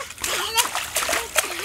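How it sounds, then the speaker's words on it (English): A young child splashing water in a backyard swimming pool, with several rapid splashes under steady bright sloshing, close to the listener, while children's voices chatter over it. "You splashing, Kennedy?"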